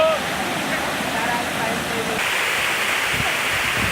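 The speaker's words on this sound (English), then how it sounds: "I saw a few different waterfalls on different islands" Steady, close rushing waterfall on an island in the Philippines, a dense unbroken roar of falling water that stays even and continuous throughout.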